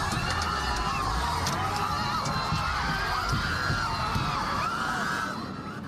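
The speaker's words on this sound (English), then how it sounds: "You can hear the sheer panic as demonstrators scramble to get out of the way when the truck moves straight toward them" A crowd of demonstrators outside a federal building in Westwood shouts and screams in panic as a U-Haul truck drives into them, a dense, continuous roar of many voices throughout that eases slightly at the end.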